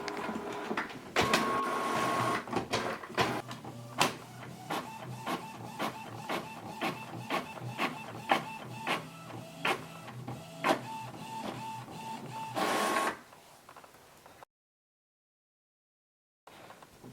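A printer runs steadily at close range for about thirteen seconds, its feed mechanism whirring and clicking in a regular rhythm before stopping abruptly; no one speaks.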